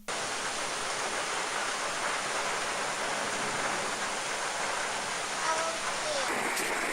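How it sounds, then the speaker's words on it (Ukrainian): Heavy rain mixed with hail pours down during a storm in Poltava, a dense, steady roaring hiss of precipitation filling the air without a break. "Разом з дощем на землю падає і град."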